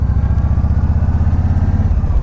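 A Yamaha Star Eluder bagger motorcycle rides in cold weather just above freezing, its engine a loud, steady, deep rumble that holds even throughout.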